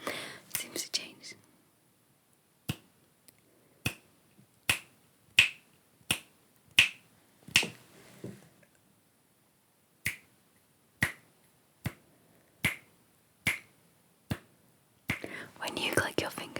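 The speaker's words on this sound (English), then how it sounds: "When you do snap your fingers, do you snap your fingers like this?" A series of sharp, close finger snaps in a quiet room, spaced about a second apart in a loose rhythm, with soft whispering between them and a brief rustle at the end.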